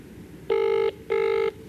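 Two short electronic phone ring tones, evenly spaced, clear and fairly close over faint background noise.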